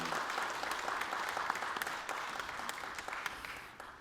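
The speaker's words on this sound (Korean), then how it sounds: "우리 하나님께 영광의 박수 올립니다" A congregation at a New Year prayer service applauds in praise of God, a steady dense wash of clapping that holds evenly for the whole stretch and tapers slightly at the end.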